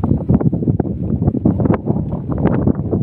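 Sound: wind blowing

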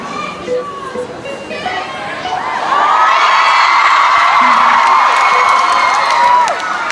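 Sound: concert crowd cheering

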